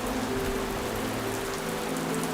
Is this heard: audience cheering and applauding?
no